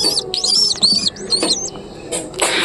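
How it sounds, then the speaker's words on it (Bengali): Pigeons and pigeon chicks in a coop, giving close, high, squeaky chirps in short bursts, with a brief flutter or rustle near the end. "এই কবুতরটা এখানে বসে আছে, আর এর বাচ্চা তোমাদেরকে আমি দেখাই।"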